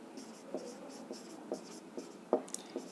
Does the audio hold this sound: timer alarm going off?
no